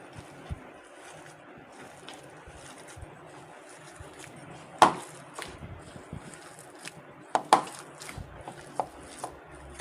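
Hands knead spiced mashed potatoes in a bowl with soft, wet squelching and scattered sharp slaps and taps that come and go irregularly, quiet and close over low background hiss.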